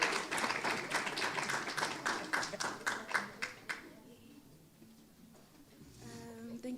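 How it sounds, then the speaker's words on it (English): An audience at a conference session on building resilient economies gives a few seconds of brisk, evenly paced clapping that tapers off. Quiet room tone follows, then a voice begins. "Give a round of applause."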